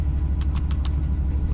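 A Class 66 diesel locomotive engine idles in Train Simulator 2017, a loud, steady, low throbbing rumble with an even pulse and faint higher clicks, close and continuous.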